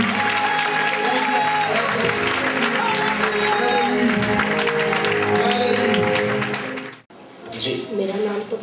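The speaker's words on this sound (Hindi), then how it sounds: "तालियां यीशु के नाम।" A church congregation applauds during a Hindi-language worship service. The clapping is dense and continuous under voices and music, cuts off abruptly near the seven-second mark, then picks up again.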